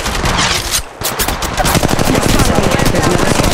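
A fully automatic Mastiff shotgun firing in Apex Legends Mobile: loud, rapid repeated blasts form a steady stream of shots, with a short break near the start before the barrage picks up again.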